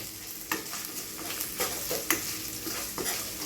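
Byadgi chillies fry in a pan of tempering oil for a chickpea usli, a steady crackling sizzle broken by a few sharp stirring scrapes, close and fairly loud, with no voices.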